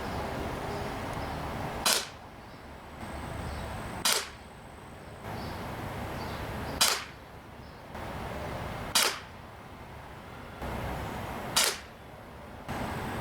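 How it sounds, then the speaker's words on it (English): An Umarex Morph 3X CO2 BB pistol fitted with the long barrel fires five sharp, loud pops, spaced about two to three seconds apart, with quiet room tone between shots and no talking. "we're gonna try 5 shots from 45 feet, 15 yards with the long barrel."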